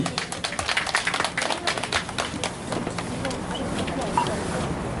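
An outdoor crowd at a Buddha's Birthday celebration at Yeonhwasa temple claps in a brisk burst of sharp, close hand claps that thins into a softer, steadier wash of sound toward the end.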